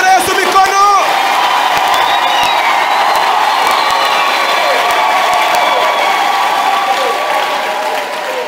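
A church congregation bursts into loud cheering, clapping and whooping, a dense sustained roar of voices and applause that stays strong throughout, with shouting rising over the crowd.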